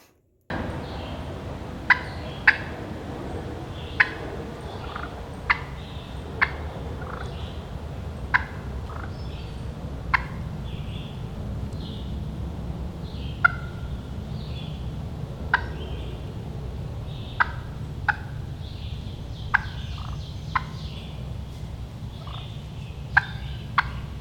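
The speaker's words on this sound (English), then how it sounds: "you have a clean conditioned surface of a striking surface on your pot call" Sharp, raspy turkey yelps and clucks from a pot call played with a striker, struck in short bursts over a quiet, steady background hiss.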